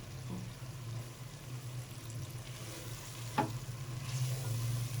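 Chicken cooking with yogurt and spices in a pot for a Degi chicken pulao, giving a steady, close, continuous sizzle with a brief stirring clink near the middle, alone without talk.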